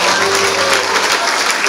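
A church congregation claps and cheers in acclaim of the Lord, dense and loud applause filling a short burst.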